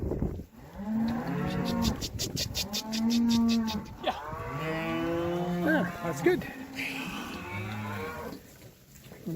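Cattle moo loudly and repeatedly at a farm while replacement heifers are weaned and sorted. The calls are drawn-out and near, with a voice speaking briefly between them.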